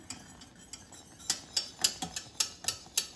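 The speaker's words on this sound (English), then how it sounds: "our honey is boiling, as you can see, and I am just whisking this" A whisk scraping and clinking rhythmically against a pot of boiling honey, a steady series of sharp metallic taps close up, with no talking.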